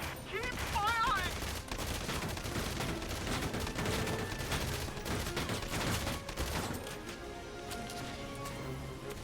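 Rapid, dense gunfire from a battle in the video game Valkyria Chronicles 4 rattles on steadily and fairly loud throughout, with brief voices and game sounds mixed in.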